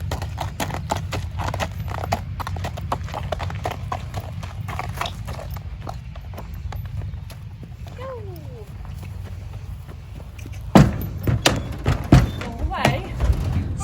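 Hooves of a show-jumping horse clomp in a rapid, uneven run on a hollow trailer floor as it unloads itself, then a few heavier thuds near the end. A voice is heard briefly.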